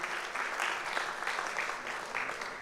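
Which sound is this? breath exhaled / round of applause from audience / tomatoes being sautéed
round of applause from audience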